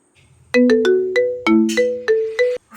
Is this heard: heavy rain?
no